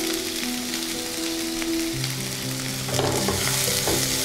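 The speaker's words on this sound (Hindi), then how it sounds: "और 3 से 4 मिनट स्लो गैस पर हम इनको भूनेंगे, आलूओं को।" Potatoes roasting in a pan over a low gas flame, a steady close sizzle with bursts of stirring and scraping, no voices.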